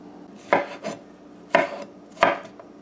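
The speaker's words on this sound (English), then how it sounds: "So we're going to cut up our squash now." Squash is cut with a knife on a board in three separate firm chops about a second apart, each a close crunchy thud followed by a lighter scrape, with no one speaking.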